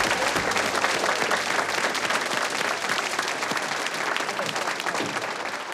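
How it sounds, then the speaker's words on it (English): Loud, dense applause from an audience at a school inclusion sports festival, honoring a young student, with sustained clapping filling the whole stretch and no speech. "Can we give Jacob a round of applause?"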